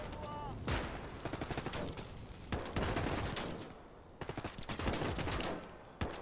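Flamethrower fire and combat in the WWII strategy game Gates of Hell during a Finland campaign: loud bursts and crackling blasts with rapid gunfire-like volleys over a steady roar, with a voice briefly heard.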